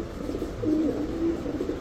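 A pair of racer pigeons gives a couple of soft, low coos, fairly faint against steady background noise.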